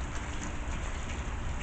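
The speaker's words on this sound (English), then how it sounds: "And as you can see, it is still raining" Steady rain falling outdoors on a cool day near a barbecue grill, a continuous dense hiss of drops on surfaces filling the whole moment without pause, fairly close and even in loudness, with no voices.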